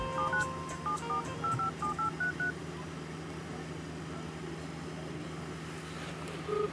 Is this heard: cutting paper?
no